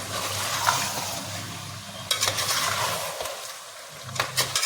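Ginger garlic paste frying in a pan for chicken korma, a low continuous sizzle with occasional clinks and scrapes of a spoon stirring against metal, close and quiet, no voices.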